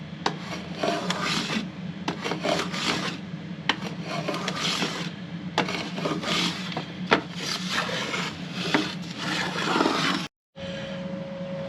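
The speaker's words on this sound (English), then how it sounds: "So I'm just going to take a hand plane and run it over this kerfing." Hand plane taking repeated rasping strokes along wooden kerfing inside a mandola body, a steady run of close, scraping passes with a brief silence near the end.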